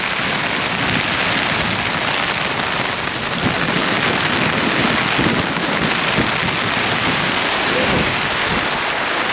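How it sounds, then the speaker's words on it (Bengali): Heavy monsoon downpour in the Sundarbans, a dense, loud, unbroken roar of rain pounding surfaces with low rumbles of thunder beneath, steady throughout with no voices. "হঠাৎ করে বৃষ্টি এসে গেল, একেবারে মুষলধারে বৃষ্টি।"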